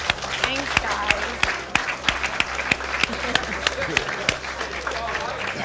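Audience clapping steadily for a speaker at a gathering with a college football team, dense sharp claps with scattered louder hits and some talking mixed in.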